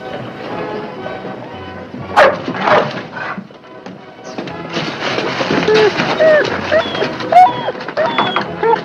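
A dog barks in a classic Western film scene, with short yaps and whimpers mixed among people talking and indoor movement noises at close range.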